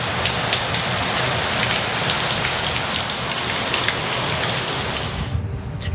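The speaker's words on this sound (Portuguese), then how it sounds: "É, chuvinha." Light rain striking a house wall, a dense, even patter of drops close by that stays constant for several seconds before easing off near the end, with no talk.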